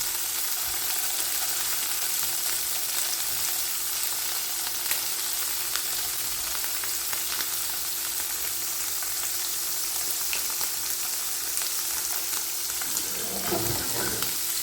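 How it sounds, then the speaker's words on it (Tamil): Paneer cubes fry in ghee, giving a steady, close crackling sizzle that runs throughout, with a few soft stirring knocks toward the end. "பன்னீர் நல்லா பொரியிற வரைக்கும் நல்லா திருப்பி விட்டு பன்னீரை இப்போ நம்ம பொரித்து எடுத்துக்கலாம்."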